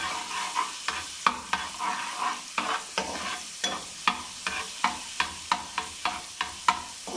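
Chicken cooking in a frying pan for desi-style noodles, a soft sizzle broken by regular scraping strokes of a spoon stirring in a steady rhythm, fairly quiet, no talking.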